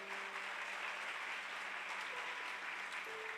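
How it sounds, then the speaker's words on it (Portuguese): Dense, steady applause from a church congregation fills the space loudly and evenly throughout, with no break and no voice on top. "Aplauda bem forte"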